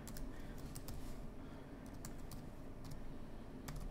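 Fast, light tapping on a computer keyboard as a folder name is typed, a quick irregular run of close key clicks over a steady background hum, no voices.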